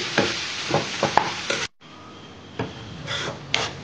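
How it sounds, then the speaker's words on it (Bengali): Bombay duck fish and vegetables are mashed and stirred in a pan, giving scraping, sizzling stirs in uneven strokes with a brief pause partway through; no one speaks. "এবার এই লইট্টা মাছ আর এই যে তরকারিগুলো যেগুলো দিয়েছিলাম, এগুলোকে আমি এরকম করে ভালো করে ম্যাশ করে দিচ্ছি"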